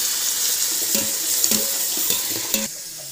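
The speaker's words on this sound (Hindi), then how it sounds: "थोड़ा सा इसमें पानी डालेंगे," Water is poured into a pan of browned onions while chicken pulao cooks, a steady splashing hiss with faint sizzle and a few light knocks, close and alone, ending abruptly near the close.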